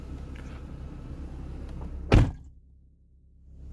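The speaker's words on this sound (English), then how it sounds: "Closing the door." The door of a 2013 Toyota Camry Hybrid XLE shuts with a single solid thunk heard from inside the cabin, followed by a sudden drop to muffled quiet.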